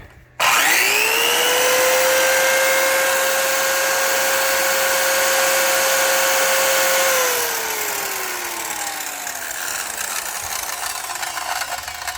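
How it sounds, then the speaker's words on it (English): A table saw powered by a van's solar electrical system spins up with a sharp whine, runs steadily for several seconds, then winds down as the motor coasts to a stop. "there's no problem at all running power tools right out of my van"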